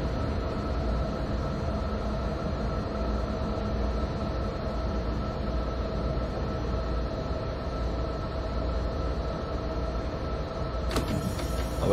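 A train in a rail simulator game, running from Osnabrück to Münster Hbf, rumbles steadily as it eases into a station platform, a constant loud hum ending in a brief clunk near the close.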